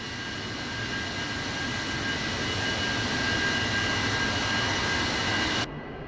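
A Su-30 jet's engine roars steadily and loudly in a DCS World flight simulation, a broad continuous rush with a high whine, cutting down abruptly near the end.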